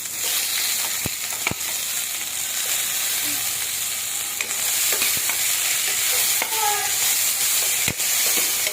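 Onion, garlic and tomato fry in a pan for squid adobo, a steady close sizzle with occasional stirring scrapes and a few sharp clicks.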